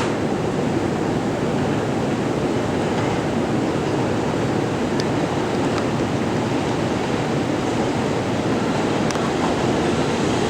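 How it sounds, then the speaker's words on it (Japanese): A Rapid Mie diesel train on the Ise Railway pulls into a station with a steady, broad rumbling roar that holds evenly throughout, with no voices. "快速列車三重号がやってきました"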